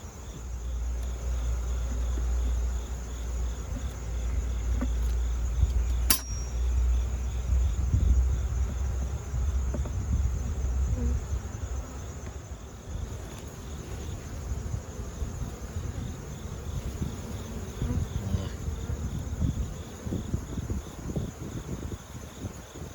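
Honey bees buzzing around an open hive during a colony merge for winter, a steady dense drone of many insects close by, lasting throughout with a faint sharp tick early on.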